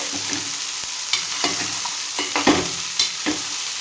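A spoon scrapes and stirs okra with dried prawns in a sizzling curry pan, making several distinct close knocks and scrapes over a constant frying hiss, with no voices.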